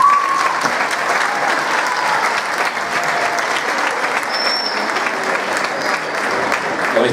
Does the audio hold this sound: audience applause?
yes